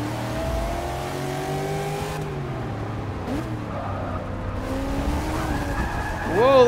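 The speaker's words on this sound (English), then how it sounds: "Whoa, a little bit of drift." An Ultima GTR race car in Forza Motorsport 6 drifts, its engine revving in rising and falling harmonics while the tires squeal and skid. A voice briefly speaks over it.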